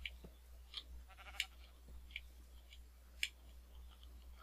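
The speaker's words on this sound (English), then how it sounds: "I'm hearing sheep, aren't I?" Sheep bleat in a modded Minecraft 1.12 game world, several short separate calls scattered across a quiet background with a steady low hum, with no talk over them.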